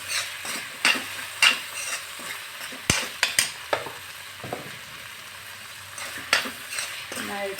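Ridge gourd mezhukkupuratti curry finished with a small spoon of coconut oil is stirred in a pan, with soft sizzling under scattered clicks and scrapes of a spoon against the pan.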